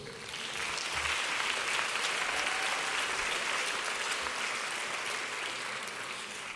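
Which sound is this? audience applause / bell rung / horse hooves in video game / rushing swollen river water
audience applause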